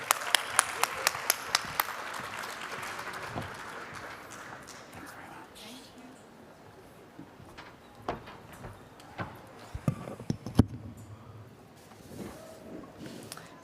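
Audience applause at a conference panel session on crisis preparedness, a burst of clapping that fades after a few seconds, followed by scattered thumps and movement while someone speaks.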